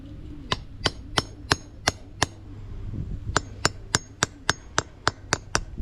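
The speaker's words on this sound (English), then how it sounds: "I'm going to use that same socket to put this seal in." A socket tapped with a hammer to seat a trailer bearing seal: a run of crisp, close metallic taps at a steady rhythm, pausing briefly midway before a quicker series resumes.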